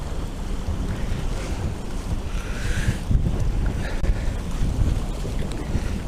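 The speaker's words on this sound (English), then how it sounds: "It's really windy today." Strong wind buffets the microphone in continuous gusts, with the wash of waves and open water underneath, on the shore while fishing.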